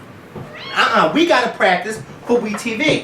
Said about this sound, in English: You need to get out, cat.